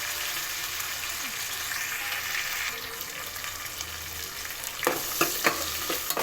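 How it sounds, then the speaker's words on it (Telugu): Onion pieces fry in hot oil along with mint and curry leaves, a steady crackling sizzle that ends in a few sharp spoon knocks against the pan. "కలర్ మారే వరకు ఫ్రై చేసుకోవాలి."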